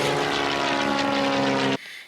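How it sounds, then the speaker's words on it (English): Propeller airplanes taking off at an outdoor show in Northern Maine, a loud close engine drone that holds steady and then cuts off abruptly. "We even got to see several of the planes take off"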